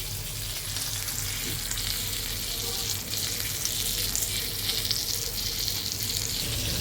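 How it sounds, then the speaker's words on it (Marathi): Bagde and mushi fish fry in a pan with a steady, close sizzle that holds at an even level throughout, with no voices over it. "हे बघा आता मस्त आपले हे बागडे फ्राय होत आहेत"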